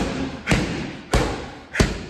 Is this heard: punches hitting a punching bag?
yes